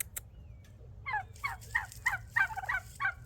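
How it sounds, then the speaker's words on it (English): Turkeys gobble nearby in a quick series of about seven rattling calls over roughly two seconds, loud and close, set against a low steady hum. "These turkeys are being ridiculous."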